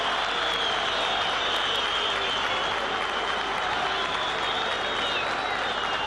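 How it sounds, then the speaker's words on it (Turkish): Vanspor supporters applauding in a football stadium during a 1997-98 match against Galatasaray, a dense, sustained roar of clapping spread across the crowd at steady loudness with no break. "Van Spor taraftarı da alkışlıyor."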